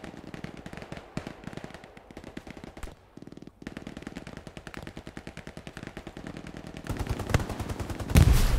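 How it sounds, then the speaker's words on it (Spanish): Rapid gunfire aimed at a tank in Hell Let Loose, dense overlapping automatic bursts crackling steadily, pausing briefly, then growing louder and heavier toward the end. "De hecho le están disparando al tanque."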